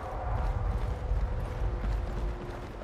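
A horse's hooves clip-clop in Skyrim, a steady run of soft, close steps under a low ambient game rumble and a faint sustained tone. No one speaks.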